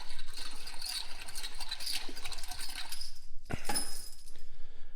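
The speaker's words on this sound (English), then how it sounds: "I'm just going to start with rinsing it in some water" Metal window regulator parts from a 1967 Firebird are rinsed in water, with continuous splashing and trickling mixed with light metallic clinks and clatter close by, and a brief louder knock partway through.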